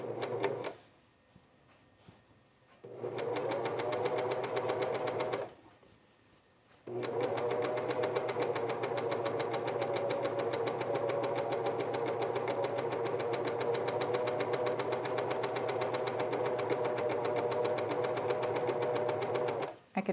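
A home sewing machine restitches missed stitches on a dress, its rapid needle chatter running in long loud bursts separated by short pauses.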